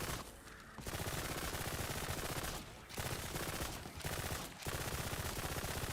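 A player's gun in a shooter video game fires rapid, continuous automatic bursts, loud and close, with a few brief pauses between volleys.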